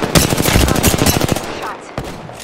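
Rapid automatic gunshots in the battle royale shooter Apex Legends, a loud close burst of about a second and a half, then a pause and one more sharp report.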